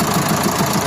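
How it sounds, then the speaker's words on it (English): A car engine runs after its starter motor relay was fixed, idling with a dense, even rumble and rough mechanical clatter close by, with no talking. "So you can see now it is starting good."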